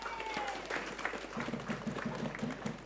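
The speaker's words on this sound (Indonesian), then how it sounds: "Berikan tepuk tangan untuk kita semua." A studio audience at a TVRI Sumsel quiz show claps in a brief burst, fairly faint and somewhat distant, with a low hum beneath it.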